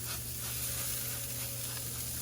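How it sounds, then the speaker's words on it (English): Apple juice mixed with cider vinegar and water is sprayed onto a pork shoulder in a Masterbuilt 800 Gravity Series smoker, giving a soft steady hiss over a constant low fan hum. "I'm gonna spray it real quick."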